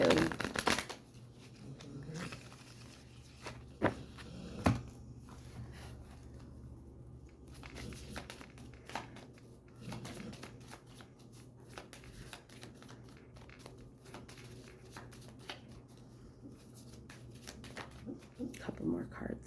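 Tarot cards are shuffled in soft, papery bursts and riffles during a reading, sounding close but fairly quiet, with a person talking over much of it.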